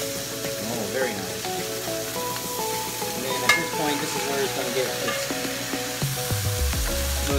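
A bone-in New York strip steak sizzles loudly in a hot pan after being flipped, a dense, steady frying crackle up close, with an occasional utensil tap and a low rumble near the end.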